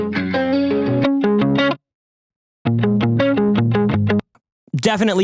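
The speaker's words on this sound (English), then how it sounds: "I'm going to turn on this tube screamer" Electric guitar through a tube screamer drive pedal set to low drive and a raised tone plays two short, mildly overdriven phrases of quick picked notes separated by a pause, followed by a brief burst of talking.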